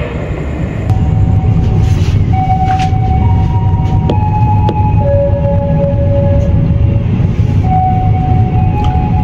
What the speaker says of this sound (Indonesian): Jalur 4 kereta api Jayabaya selesai naik, turun penumpang bersiapan berangkat kembali.